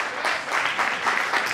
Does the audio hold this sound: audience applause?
yes